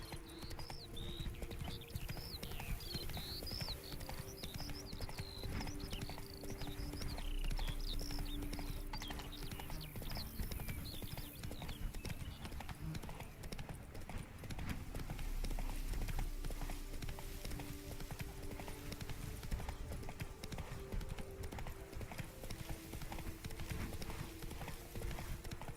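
Horse hooves clip-clop at a gallop in The Witcher 3, a steady rapid drumming that runs throughout with faint game ambience and birdsong above it.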